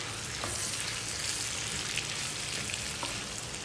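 Meat for Ilocano pinapaitan frying in a hot pan, a loud steady sizzle with crackling spatter throughout and no speech.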